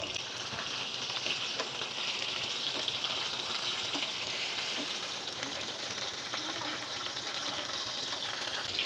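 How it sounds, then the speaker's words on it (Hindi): Chicken steak frying in a pan, a steady close sizzle with a hissy, watery crackle that holds even and unbroken throughout, no talking. "यहाँ पे चिकन को दूसरी साइड से फ्राई करते हुए भी 5 मिनट हो चुके हैं।"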